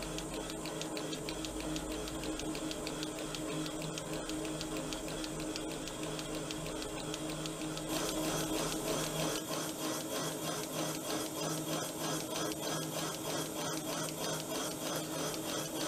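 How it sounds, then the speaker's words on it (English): A threading tool ratchets across a Norton motorcycle exhaust port thread, giving a steady, even, rhythmic ticking and rasping that runs on continuously and close up with no voices. "Nice rhythmical tick as it kind of ratchets its way across."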